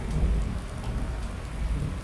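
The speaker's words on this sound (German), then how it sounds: "Ja, wir haben hier Gewitter." Steady thunderstorm rain pours down in Thuringia, a dense continuous hiss with low rumbling underneath, loud and even throughout with no voices.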